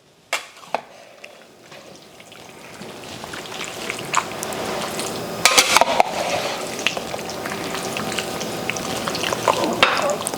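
Beef and broccoli topped with sesame seeds is stirred on a hot Blackstone griddle, giving a steady sizzle and frying crackle with scraping spatula clicks that grow slightly louder, and a voice speaking briefly.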